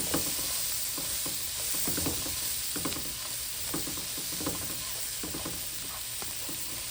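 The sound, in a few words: garlic frying and being stirred in a pan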